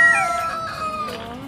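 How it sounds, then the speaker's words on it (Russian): Hens cluck and call with a drawn-out, crowing cry, close by and fairly loud. "Курочки."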